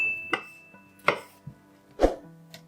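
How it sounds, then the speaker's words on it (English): Knife chopping red peppers on a board while making homemade hot sauce: four or five separate sharp chops spaced irregularly, close and fairly clear, with no talking. "Chop 2 red peppers."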